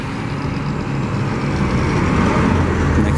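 A B24 city bus pulls away from the Williamsburg Bridge Plaza bus terminal by Marcy Avenue station, its engine a loud, steady close-up roar that swells slightly as it departs.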